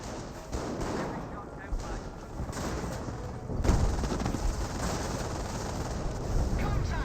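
Gunfire from a Company of Heroes 1 World War II strategy battle, a steady mix of rifle and machine-gun shots with distant artillery rumble, continuous and moderately loud, with someone commentating over it.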